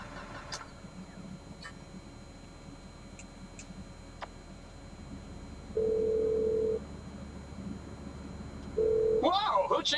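In GTA V, a phone ringtone chirps in two short, flat tonal bursts a few seconds apart, followed by a brief warbling melodic ring, heard over low game ambience with occasional ticks and faint engine rumble.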